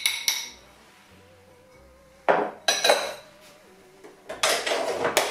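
Sugar being added to creamed butter in a mixing bowl while making Halloween spider cupcakes, with several bright clinks and scrapes of a utensil against the bowl, separated by quiet pauses and a faint hum.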